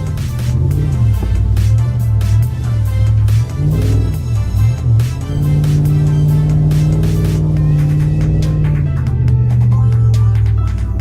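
A pickup truck's engine revs hard and holds loud, steady drones with rising and falling pitch while drifting on a snowy road during a winter truck cruise, close and continuous with no talking.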